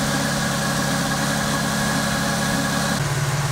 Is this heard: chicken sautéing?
no